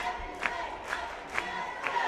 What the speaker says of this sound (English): Lady Cards are cheering